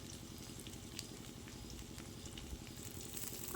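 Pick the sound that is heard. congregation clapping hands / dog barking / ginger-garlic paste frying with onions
ginger-garlic paste frying with onions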